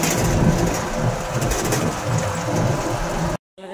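An auto-rickshaw ride over a rough road after dark brings a continuous close rumble of engine, rattling and rushing wind, cut off abruptly just before the end.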